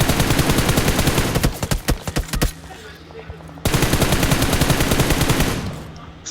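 Automatic gunfire rattles in a shooter video game, with dense rapid bursts, a short gap of scattered single shots, then another sustained loud burst, close and harsh, with faint talk beneath.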